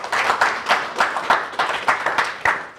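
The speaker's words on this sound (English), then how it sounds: "Can you give Yemi ADEEKO a round of applause?" Audience at a charity gala in the London Hilton, Holland Park, claps in a round of applause, with irregular louder bursts of hand claps rising and falling over a steady crowd patter, fairly close.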